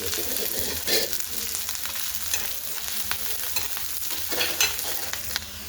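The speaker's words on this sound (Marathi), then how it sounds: "आता कांदा परतून घ्यायचा" Chopped onion sautéing in oil in a pan, a constant frying sizzle broken by several scraping stirs of a spatula, close and moderately loud with no one speaking.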